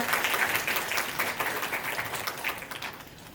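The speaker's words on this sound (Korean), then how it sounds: "네, 박수 부탁드립니다." Applause from the audience at a Korean-language program graduation ceremony as a student representative comes forward, brisk clapping that starts full and gradually thins and fades toward the end.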